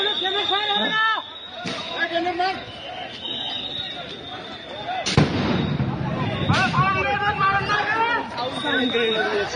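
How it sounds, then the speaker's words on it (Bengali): Sound grenades go off at night at Dhanmondi 32, with a few sharp, loud blasts over a constant crowd hubbub and people talking. "সাউন্ড গ্রেনেড নিক্ষেপ করা হচ্ছে"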